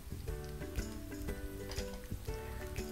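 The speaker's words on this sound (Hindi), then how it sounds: "तो सबसे पहले हमें गार्लिक तेल में डाल देना है, इसे हमें अच्छी तरह से भून लेना है पहले।" Garlic and ginger sizzle in hot oil in a pan for a masoor dal, giving a steady crackling fry close up with small pops scattered throughout and no talking.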